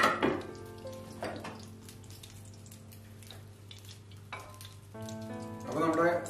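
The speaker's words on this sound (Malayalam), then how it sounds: "അപ്പോൾ നമുക്ക് ചിക്കൻ ഫ്രൈ ചെയ്തിട്ട് നമുക്ക് മാറ്റി വയ്ക്കാം" Chicken frying in oil gives a soft, continuous sizzle and crackle, fairly quiet under background music.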